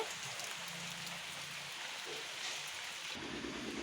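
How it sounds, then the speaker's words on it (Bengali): Heavy rain falls outside after three days of steady downpour, making a dense, even hiss that continues without a break at a moderate distance, with no voices. "বাইরে প্রচুর বৃষ্টি হচ্ছে চলো তোমাদেরকে দেখাই বাইরের অবস্থাটা"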